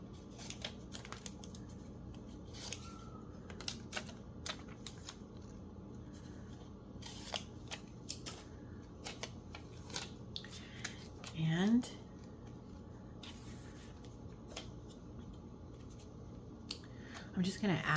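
Scissors snip through pieces of old book pages for journal tags, producing a few faint, quick cuts clustered near the middle and the end over a quiet crafting background with light tapping.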